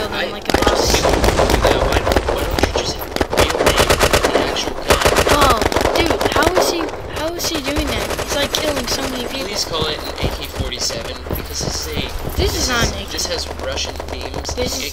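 AK-47 automatic fire in the online shooter Red Crucible Firestorm rattles in rapid, dense bursts with scattered single shots throughout, loud and close, while a player talks excitedly over it.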